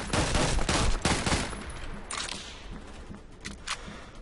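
Rapid bursts of Mac-11 submachine gun fire in the shooter game Phantom Forces, dense and loud in the first second and a half, then sparser, fainter shots and clicks trailing off.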